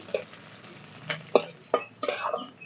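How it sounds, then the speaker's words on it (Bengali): Chopped garlic and onion fry lightly in a pan as a spatula stirs them, giving a soft sizzle broken by several scraping strokes and clicks in an irregular rhythm. "দিয়ে দেবো রসুন কুচি পেঁয়াজ কুচোনো হালকা একটু ভেজে নিচ্ছি"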